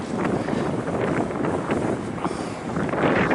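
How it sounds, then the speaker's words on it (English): Strong wind buffets a microphone outdoors at a Roman amphitheatre, a continuous loud low rumble and roar that surges and eases, with no speech. "Try and get out of this wind if we can."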